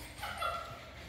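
Puppies whimpering and yipping softly at a first vaccination visit, a brief thin whine over a quiet room background.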